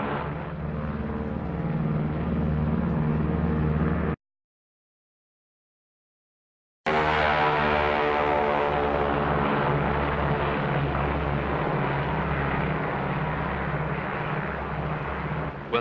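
The B-29 bomber Dave's Dream in flight toward Bikini with escort planes, a steady, loud propeller-engine drone that cuts out briefly to silence, then resumes as a continuous heavy hum.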